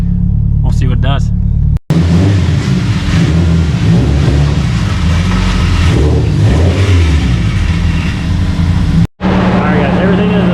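A Subaru Forester XT with a stock engine making over 700 wheel horsepower runs on a dyno, its loud engine droning and revving steadily for about seven seconds between two abrupt cuts.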